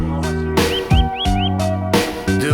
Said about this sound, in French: Juste content d'écouter les oiseaux chanter